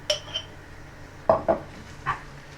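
A metal spoon clinks several times against a pot while tomato paste goes into Ukrainian borscht, with sharp separate taps in two small bursts over a quiet background.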